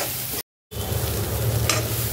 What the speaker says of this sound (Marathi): सारखं असं हलवत राहा, नाहीतर हे खाली आहे ना करपून जायला, नाही तर चिपकेल खाली ह्याला कढईला